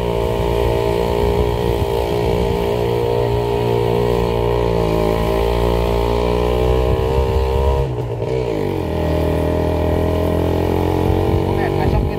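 A Kawasaki Ninja R motorcycle ridden through hilly country: its engine hums with a steady, loud, throaty drone, dipping briefly as the throttle eases and then climbing back. Road and wind noise run underneath throughout.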